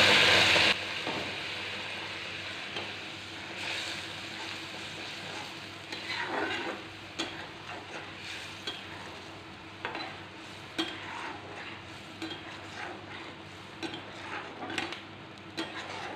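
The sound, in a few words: fish frying in a pan for mustard fish curry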